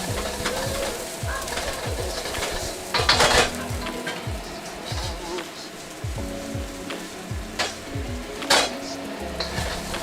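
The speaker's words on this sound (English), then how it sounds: "We're going to give that a toss just long enough until it becomes fragrant." Garlic, ginger and green onions tossed in a pan while cooking chicken pad thai: a continuous close sizzle with repeated scraping and clanking of a utensil against the pan, and a few louder metallic knocks.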